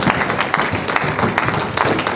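An audience keeps clapping for a guest lecturer, a brief burst of loud, many-handed applause with uneven individual claps standing out.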